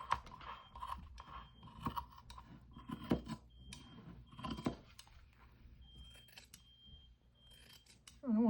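Scissors cutting fabric near a seam during hand stitching, a quiet close series of crisp snips and blade slides in an irregular rhythm, with no one talking.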